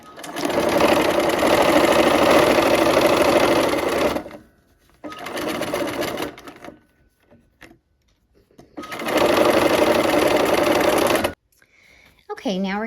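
A sewing machine joins quilt rows in three loud, steady runs of rapid stitching separated by short pauses. It ends with a faint squeak and a last brief burst.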